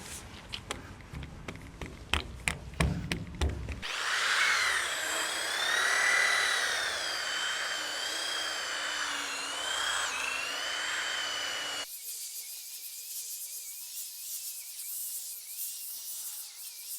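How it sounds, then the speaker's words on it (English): An electric polisher works over the body of a classic truck, a steady whirring drone that wavers in pitch as the pad moves, following some brief knocking and handling noises and dropping to a quieter hum near the end. "The polisher is working awesome to get this cleaned up."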